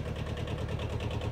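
An old Japanese Kubota B6000 four-wheel-drive tractor with a two-cylinder diesel engine idles steadily, giving a close, even low chugging throb with a regular pulse and no voices.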